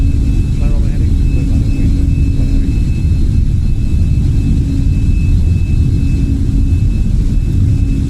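Boeing 747 jet engines held at takeoff thrust in the game MSFS 2020, a loud, unbroken low roar with a faint steady whine above it and a voice speaking over it.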